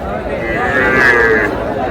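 A seven-month-old heifer calf at Aftabganj cattle market lets out a single loud, drawn-out moo close by, with faint crowd chatter underneath.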